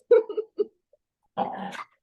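A dog gives a few short whimpering yips close by, then a longer whining whine after a brief pause, with no talking over it.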